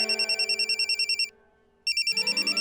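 A telephone rings with a rapid, electronic trilling pattern in short repeating bursts. There is a brief pause, then the ringing starts again, close and clear.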